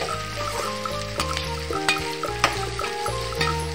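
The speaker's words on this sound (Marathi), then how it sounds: "कांदा व मिरच्या चांगल्या प्रकारे शिजू द्यायच्या" Onions and green chillies frying in a pan for a fenugreek leaf (methi) vegetable dish, with a steady sizzle under a strong low background hum and occasional sharper clicks of stirring.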